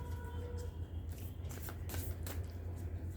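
Tarot guidance cards being shuffled, a run of soft papery riffles and flutters over a low steady hum, close and fairly quiet, with no one speaking.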